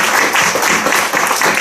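A church congregation at a Sunday service applauds to welcome newcomers and visitors. The clapping is loud, dense and sustained, filling the room evenly throughout.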